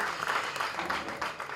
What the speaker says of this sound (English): Now you can clap again.